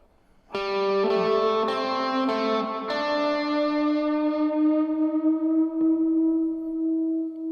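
Clean lead guitar riff from a song in 6/8 time, a handful of plucked notes ringing out and sustaining into a long fading final note, played close and alone.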